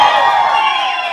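A loud burst of crowd shouting and cheering inside a restaurant, a sustained chorus of voices for about a second.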